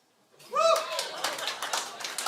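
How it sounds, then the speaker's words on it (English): Brief round of applause from a podcast live audience, a burst of clapping that rises quickly and continues steadily with some speech-like sounds mixed in. "Before I tell you the story, round of applause."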